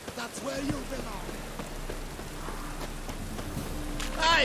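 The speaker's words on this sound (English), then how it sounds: "Rain, I like rain." Steady rain falls in The Witcher 3, a continuous hiss of drops with faint game sounds and brief voices mixed in.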